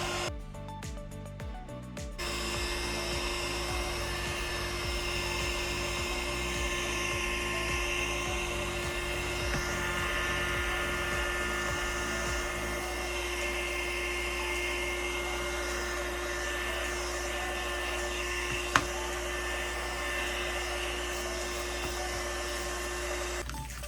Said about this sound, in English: now we're going to heat it a little bit, and that way it'll dry up that Mod Podge and our paint.